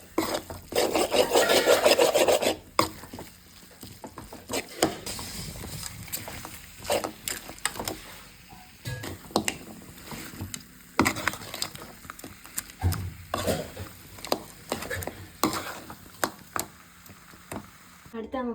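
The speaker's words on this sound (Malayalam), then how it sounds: "അപ്പോൾ ഫസ്റ്റ് ഞണ്ട് കഴുകാം, പിന്നെ നമുക്ക് ചുമന്ന മീൻ കഴുകാം." Crabs being washed by hand in a kitchen: wet rubbing and scraping, loudest in a dense burst at the start, then irregular scrubs, splashes and knocks, close by.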